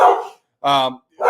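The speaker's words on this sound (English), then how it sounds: "He'll bark at his own shadow, so apologize for that." Two short sharp barks from a dog named Duke, separated by brief pauses, fairly loud and close in a home setting.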